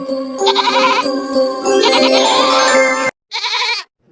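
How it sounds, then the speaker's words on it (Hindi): A goat bleats loudly and close by in drawn-out, wavering cries, followed after a brief pause by one more short bleat. "यह तो बकरी के चिल्लाने की आवाज है"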